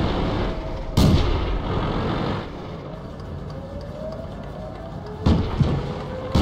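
Tank cannon fire in the World of Tanks game, a Cruiser Mk III firing: two sharp, loud broadband blasts about four seconds apart, over a steady engine rumble and clatter.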